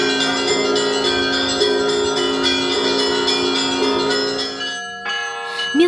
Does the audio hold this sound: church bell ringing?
yes